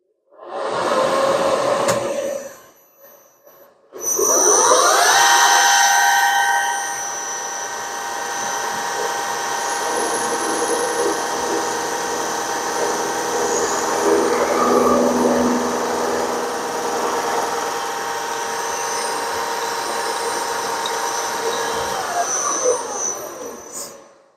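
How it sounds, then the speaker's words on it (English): A milling machine cuts to square up angle stock, its steady, loud mechanical whine starting abruptly, holding for about twenty seconds with slight shifts in pitch, then winding down. Brief noise comes before it starts. "So I'll get the mill going. It's going to get a little bit noisy, I think, but won't be too bad."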